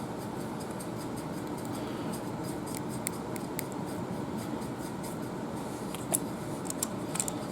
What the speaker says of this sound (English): My Klein wire snips.